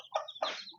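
Young chicken chicks near their mother give three short, bright clucking chirps in quick succession, close and clear with no other sound.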